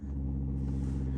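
A BMW E90 engine cranking over without firing, a close, steady low rumbling churn that holds for just over a second with no talk.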